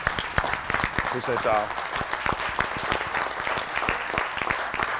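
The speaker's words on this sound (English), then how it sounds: "Give Mr. Yahuwah a hand clap." Sharp, distinct hand claps ring out in a rhythmic series from a small group, with someone speaking over them partway through.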